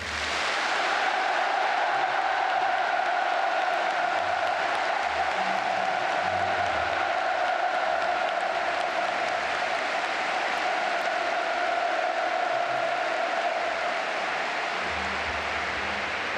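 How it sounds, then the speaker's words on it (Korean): Applause from a huge crowd of Pyongyang citizens at a mass games performance, a dense, steady roar of clapping that holds at the same loud level throughout with no voices on top. "평양시민 여러분, 문재인 대통령에게 다시 한번 뜨겁고 열렬한 박수를 보내주시기 바랍니다"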